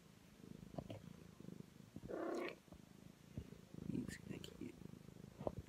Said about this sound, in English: Guinness the cat is here.